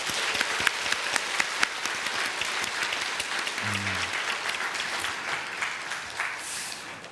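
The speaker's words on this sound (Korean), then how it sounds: "여러분 환호와 박수로 격려해 주시기 바랍니다" A church congregation applauding and cheering during a Sunday service to encourage departing missionaries: sustained, dense clapping from a large crowd, with a few sharper claps standing out early and a brief low voice-like tone in the middle.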